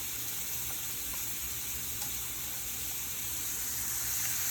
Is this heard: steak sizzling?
yes